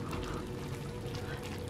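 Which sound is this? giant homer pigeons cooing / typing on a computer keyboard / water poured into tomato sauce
water poured into tomato sauce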